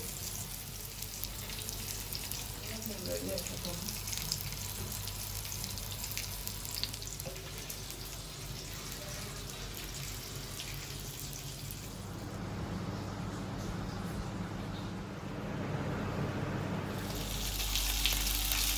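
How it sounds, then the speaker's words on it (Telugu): Marinated fish shallow-frying in oil on a flat pan, a steady close sizzle and crackle that runs throughout and grows a little brighter toward the end. "ఇంకా తీసుకొచ్చి ఆయిల్ వేసి పెనం మీద వేపుతున్నానండి"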